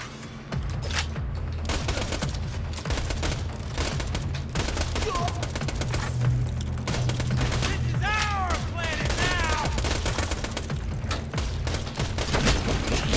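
Turret gunfire in Borderlands 2: continuous rapid automatic shots blend with game effects and chirpy alien sounds, loud and sustained throughout.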